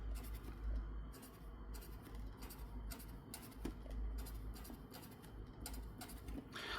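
Fifteen identical shapes drawn one after another with a pen, quiet repeated scratching strokes in short bursts with brief pauses, faint and close.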